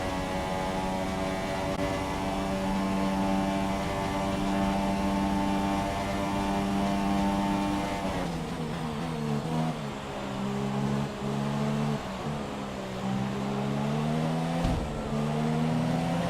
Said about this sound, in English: We've got to try and defend the straight line speed of that Ferrari down this straight in our little Renault.